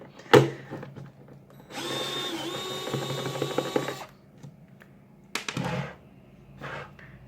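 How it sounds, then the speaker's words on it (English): A power drill with a long screwdriver bit removing screws from a space heater whirs steadily for about two seconds, its pitch rising slightly, with a few clicks and clunks before and after. "I'm going to switch it out for a longer drill or a longer screwdriver bit"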